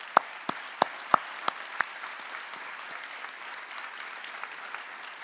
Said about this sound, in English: Est-ce qu'on peut applaudir ça?